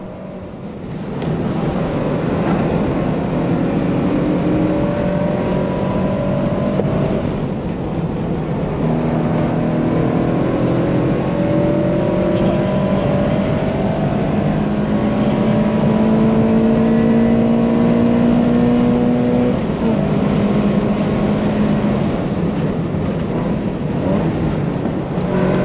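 Subaru BRZ running factory 4.1 final drive on a hot lap around a race track, a steady loud engine drone with rising tones through the gears, broken by brief shift dips and heavy wind noise, no talking.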